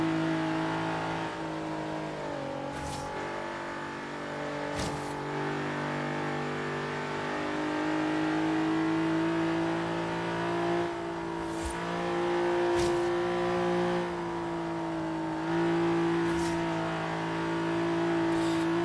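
A car drifts and revs in the Forza Horizon 3 racing game, its engine holding a steady loud drone with rising and falling pitch and a few sharp transient bursts, no voices over it.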